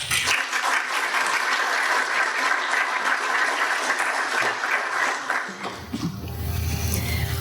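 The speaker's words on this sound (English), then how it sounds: "Let's go ahead and give John another round of applause." Sustained, dense applause from a graduation ceremony audience for John fills the room, then fades out near the end as a low tone and voices take over.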